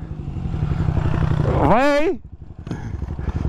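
A remapped 2024 Yamaha Fazer FZ25 motorcycle engine drones steadily and close, then revs in a sharp rising-and-falling surge before dropping back to a rougher idle. Someone speaks briefly over it.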